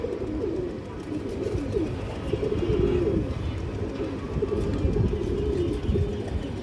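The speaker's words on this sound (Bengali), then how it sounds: "1 হাত সাইজের একটা কবুতর দর্শক, অনেক চঞ্চল মাশাআল্লাহ কবুতরটা" Pigeons coo softly in a loft, low throaty calls repeating under a busy background, with a voice speaking at times.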